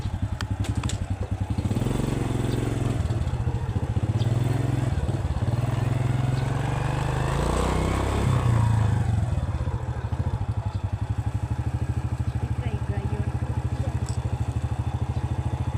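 A Honda Jazz hatchback climbs a slippery mountain road, its engine humming low and steady throughout, with rattling and clattering over the bumpy surface that grows heavier midway.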